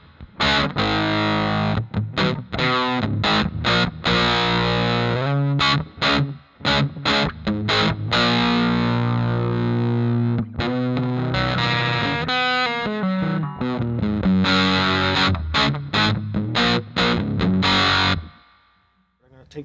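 Electric guitar through a Malekko Wolftone Unity fuzz pedal, loud, thick distorted chords and riffs played in bursts with short gaps, ending in a fading ring-out.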